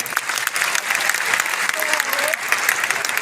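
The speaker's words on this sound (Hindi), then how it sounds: "मैं आप सबसे चाहूंगा एक बार आप जोरदार तालियों से स्वागत करिए" A large audience at a meet-up event in Patna applauds steadily in a dense wash of clapping, with a voice briefly rising over it.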